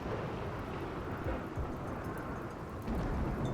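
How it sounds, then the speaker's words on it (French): Rain and thunder in the video game RimWorld: a dense, steady wash of rainfall with low rumbling thunder rolling underneath, loud and continuous throughout and swelling slightly near the end. "il y a de la pluie."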